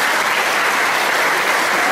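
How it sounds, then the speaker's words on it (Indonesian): Audience applause at a spiritual talk or seminar, a dense, steady wash of many hands clapping at close range, loud and continuous throughout with no voices on top. "Tepuk tangan dulu."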